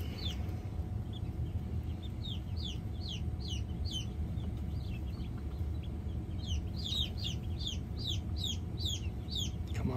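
Young chicks cluck and cheep in quick repeated bursts, several high chirps in clusters over a steady low background hum, fairly close and soft.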